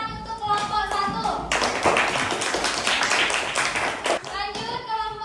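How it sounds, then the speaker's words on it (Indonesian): Children in a classroom give group 1 a burst of rapid, dense hand clapping lasting a few seconds, with talking before and after. "kita beri tepuk tangan untuk kelompok 1"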